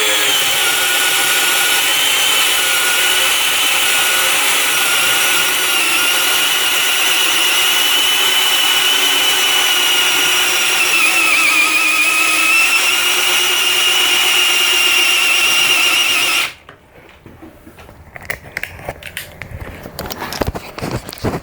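An 18V Dewalt hammer drill set to low bores into pine with a loud, continuous whirring drone lasting about sixteen seconds, its pitch wavering slightly, then it cuts off abruptly, leaving scattered clicks and handling noise.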